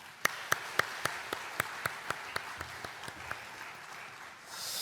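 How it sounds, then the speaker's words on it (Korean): Church congregation at a Sunday service claps in encouragement for a bereaved deacon, a steady rhythm of loud, evenly spaced claps that thin out and fade toward the end. "우리 큰 박수로서 우리 격려하겠습니다"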